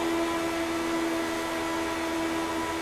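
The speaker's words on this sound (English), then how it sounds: "You can hear the foot to the floor, the engine crying out." Race car engine held at full throttle in a racing sim, the 2022 Lionheart Retro Series at Michigan, a steady sustained drone with a strong constant tone, loud and even throughout, no talk.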